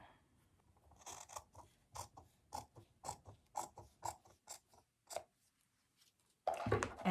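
Scissors snip through fabric for a patchwork Christmas stocking ornament, a quiet close series of crisp cuts in an uneven rhythm, ending with a louder rustle of handling the material.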